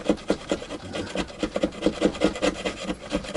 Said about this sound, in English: so we could just chisel away off this